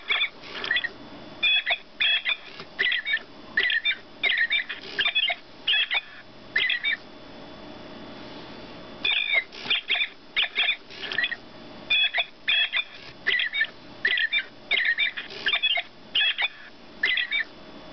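A Gemmy animated Rockin' Robin toy bird gives out rapid electronic chirps in two long runs of repeated bursts, with a short pause between them. The chirps are close and fairly loud, and nobody speaks.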